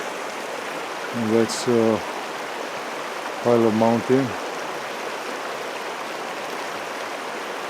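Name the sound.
creek flowing water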